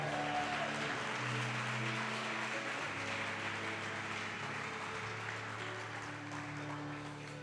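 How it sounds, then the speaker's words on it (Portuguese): Applause from a church congregation fills the space, a steady wash of many hands clapping that slowly fades, with a low sustained hum beneath it. "dá um aplauso a Jesus"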